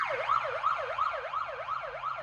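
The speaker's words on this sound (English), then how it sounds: "Yes, that's the button for the siren." A wailing siren from a Mercedes CLK AMG Formula One safety car sweeps up and down in a steady, rapid cycle, loud and close, with no voices.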